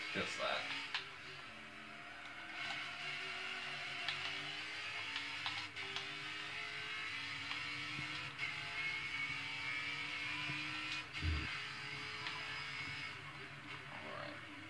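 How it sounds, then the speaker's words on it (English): V8 Supercar engines in Forza 7 racing at Indianapolis, a steady droning roar with gradually rising pitch, joined by short gear-shift blips and faint background noise, no talking. "Drifting in the V8 supercars"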